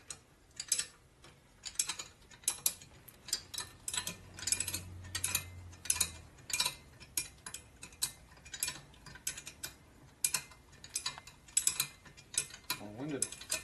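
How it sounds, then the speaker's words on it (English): A ratchet wrench working on a 1979 Harley-Davidson 80ci Shovelhead motor during a rebuild, with repeated bursts of crisp ratcheting clicks at a regular rhythm, close and fairly loud, with brief pauses between strokes and no talking. "You get high enough, you get that wrench in there."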